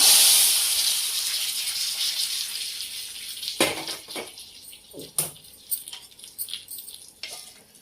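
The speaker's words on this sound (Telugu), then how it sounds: "ఈ తాలింపు తీసుకొచ్చేసి దీంట్లో పోసుకుందాం." Hot tempering poured into a pot of tomato rasam gives a loud broadband hiss that fades over a few seconds, followed by several short clinks of a metal ladle or vessel.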